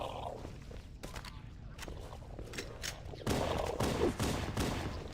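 Rapid pistol gunfire in Halo: Combat Evolved, a string of sharp shots with thuds and footsteps under continuous game audio, growing louder and denser toward the end.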